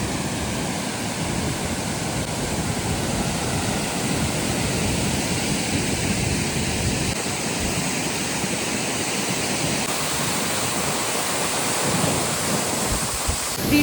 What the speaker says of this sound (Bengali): এই হলো সেই ঝর্ণা,